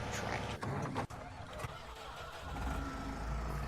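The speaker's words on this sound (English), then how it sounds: "Let's get the tractor out of the way." A tractor engine in a farming video game runs steadily, a close mid-pitched drone with a couple of brief dips and a slight rise in intensity toward the end.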